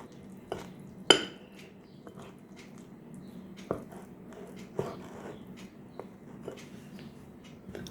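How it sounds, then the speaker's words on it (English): Spoon scraping and clinking in a bowl as brownie batter thinned with milk is stirred, with quiet irregular taps and a few sharper knocks against the bowl, close and soft. "keep stirring and keep adding milk if it's too chunky"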